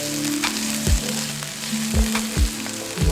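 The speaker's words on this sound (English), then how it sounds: "I'm gonna let that saute just for a little bit" White parts of green onions sauté in a hot pan with a steady sizzle, broken by a few dull knocks of stirring, close and alone.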